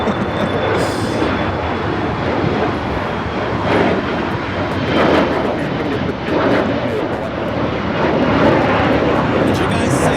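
A British Airways jet from London Heathrow goes around at Los Angeles LAX, its engines producing a loud, continuous roar that swells and surges, with voices talking over the noise.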